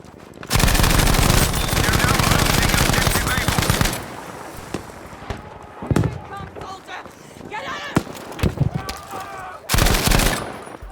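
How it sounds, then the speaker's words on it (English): Rapid bursts of Darne machine gun fire in Battlefield 5, loud dense rattling volleys at the start and end with scattered single shots and game effects between, while voices talk over parts of it. "Ah, that Darne MG."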